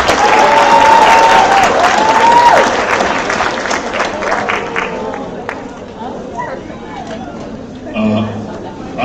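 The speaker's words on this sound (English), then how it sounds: "another round of applause for the mathematicians" Sustained audience applause fills a hall at a Dean's List award ceremony for a school of science, health and technology, loud at first and gradually thinning, with crowd murmur and a brief voice near the end.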